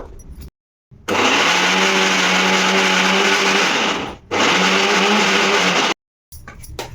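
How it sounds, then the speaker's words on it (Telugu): An electric mixer grinder blends raw onions into a paste for onion chutney, loud and close, running in two steady whirring bursts of about three seconds and two seconds, with short silent pauses before, between and after. "ఇప్పుడు ఇది మిక్సీ పట్టుకుందామమ్మా"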